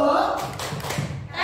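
A group of teachers claps a short rhythmic pattern as part of a call-and-response clap chant, a quick run of hand claps mixed with voices.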